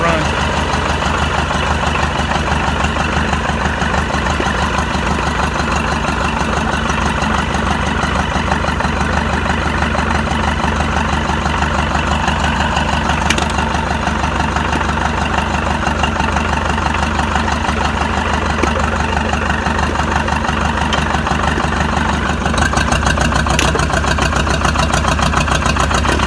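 An Oliver 550 tractor engine idles steadily, a continuous low rumble that runs unbroken from start to finish with close, even loudness.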